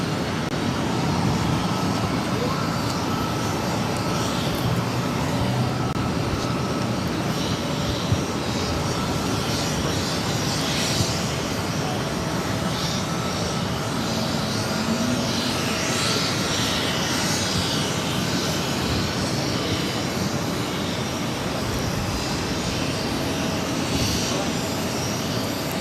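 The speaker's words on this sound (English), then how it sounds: "This is Spirit Airlines 1117 taking off to Charlotte on the A320neo." A Spirit Airlines Airbus A320neo takes off at Boston Logan, its engines a steady, broad roar that holds for the whole stretch. Distant radio chatter and talk sit under it.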